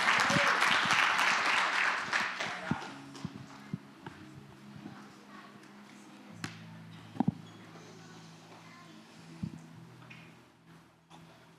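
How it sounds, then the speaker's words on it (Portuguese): Church congregation applause, a broad wash of clapping that swells at the start and quickly thins to a few scattered claps and knocks over a low hum in the hall. "aplauda ao Senhor com alegria"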